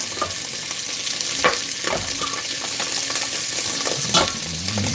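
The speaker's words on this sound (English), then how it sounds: "now we're just gonna add a little bit more butter to the pot" Butter frying in a cooking pot for a homemade dinner, a steady close sizzle with occasional stirring clinks and scrapes throughout.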